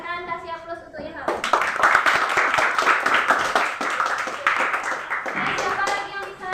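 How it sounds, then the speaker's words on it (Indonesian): A classroom breaks into applause for a student, many hands clapping together at close range for several seconds, joined by students' voices and cheering before the teacher speaks again. "silakan kasih aplaus untuk Ilham"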